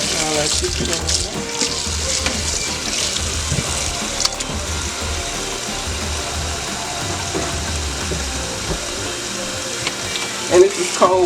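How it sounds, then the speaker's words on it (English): Cold tap water runs steadily over raw chicken in a home kitchen sink, a continuous close splashing wash with small shifts as the meat is handled, and brief clatters near the end. "And this is cold water, of course."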